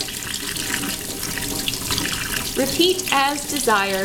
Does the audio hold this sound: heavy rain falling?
no